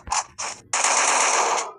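Automatic gunfire in the mobile shooter game Free Fire: two short bursts, then a longer sustained volley, loud and close with no talk.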